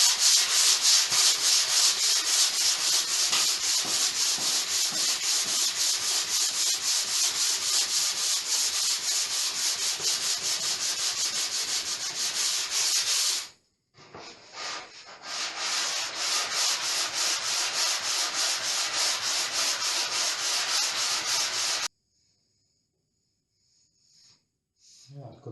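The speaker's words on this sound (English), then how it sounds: "So again, using the 180," Woodwork is hand-sanded with 180-grit sandpaper in rapid, steady back-and-forth rasping strokes, close and continuous. The strokes break off once partway through, then resume and stop, leaving near silence.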